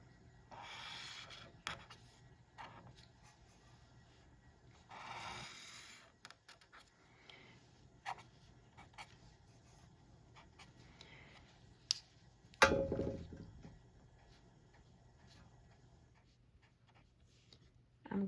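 A pen drawing a graph on paper gives soft, intermittent scratching strokes, close and faint in a quiet room, with a few sharper taps between them.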